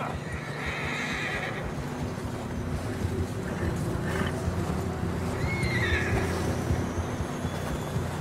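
Horses in the video game Red Dead Redemption, with a loud whinny at the start and further neighs later, plus clip-clop hoofbeats over a steady ambient outdoor bed, no talk.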